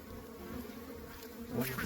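A steady, dense buzz of many honey bees at a hive during a mid-winter check, close by, with a slight swell in intensity near the end.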